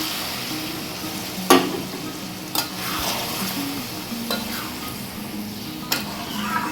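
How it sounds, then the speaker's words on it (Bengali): Dhaba-style chicken kosha sizzles loudly in a hot pan as a little water goes in and a spatula stirs, with a few sharp metallic knocks spaced through the steady frying hiss, and no one talking. "এবার এতে খুব সামান্য 1 বাটি জল দেবো, বেশি নয়।"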